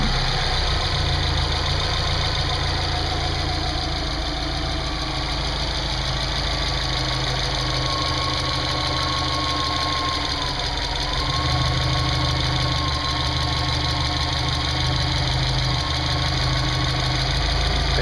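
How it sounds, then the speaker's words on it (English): A Subaru car engine with a front-mount intercooler idles steadily and loudly, a continuous close rumble with a faint knocking texture and no talking. "Hey, Dustin, you ready to fire this thing up?"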